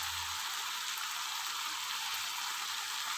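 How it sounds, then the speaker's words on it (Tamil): Pieces of elephant foot yam sauté in a pan, giving a steady, even, hissing sizzle close by with no breaks or other sounds. "இந்த வதங்கட்டும்"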